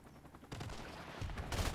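A helicopter killstreak fires in Call of Duty: Modern Warfare Remastered, heard as a faint burst of rapid gunfire that starts abruptly and rises to a heavier rattle near the end.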